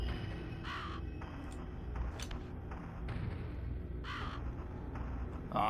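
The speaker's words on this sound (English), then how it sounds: "The bird cuts a consistent path through the world." Several hoarse, rasping caws from a crow in the Soul Reaver Dreamcast video game, spaced a second or two apart over a steady low ambient hum.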